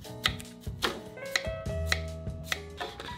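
A knife chops through a sweet green kiwi fruit on a board before it goes into a blender, giving about seven crisp, evenly spaced cuts beneath steady background music.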